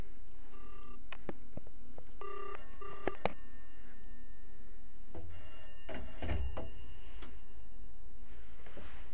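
An old Telecom payphone bell rings in short metallic bursts amid clicks and ticks, with a low thump partway through; no one speaks.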